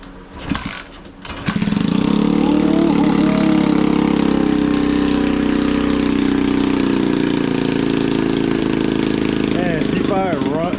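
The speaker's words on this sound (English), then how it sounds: "Man, she fired right, oh, well, not right up, but it fired." A pit bike engine with the choke on fires after a few knocks and catches, then runs at a loud, steady, buzzing idle close by, with a brief rev near the end and a voice over it.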